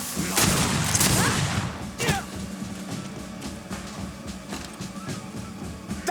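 A grenade going off in the video game GreedFall: a loud burst of explosive noise at the start that decays into rumbling battle din, with scattered sharp impacts and voices underneath.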